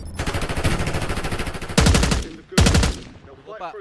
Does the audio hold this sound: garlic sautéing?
no